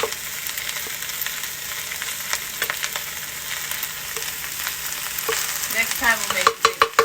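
Rice, still warm and slightly sticky, stir-fried in a pan for authentic fried rice, giving a steady sizzle with scraping stirs throughout and a few louder clanks of the utensil near the end.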